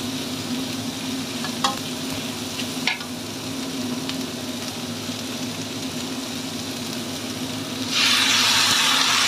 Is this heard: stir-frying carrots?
yes